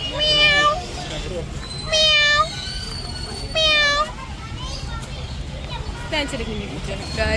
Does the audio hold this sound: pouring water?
no